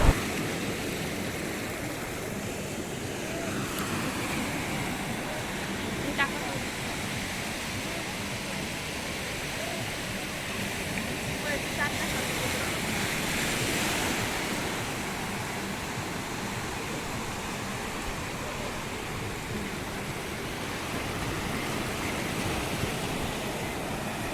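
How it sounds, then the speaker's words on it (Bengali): Sea waves rolling onto a beach at night at Cox's Bazar, a steady broad wash of surf and wind that continues without break, fairly loud and close, with no clear speech over it. "এই সমুদ্রের সাউন্ডটা এত রিল্যাক্স লাগতেছিল"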